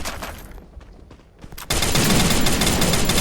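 Gunfire from the Free Fire mobile game: scattered shots early, then a sudden dense, loud burst of sustained automatic fire filling the second half.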